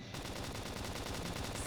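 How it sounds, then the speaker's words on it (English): Rapid gunfire in the Xenoblade Chronicles X video game, a dense, loud run of repeated shots that keeps going steadily for the whole stretch over busy battle sounds. "If we can just topple them with gunfire."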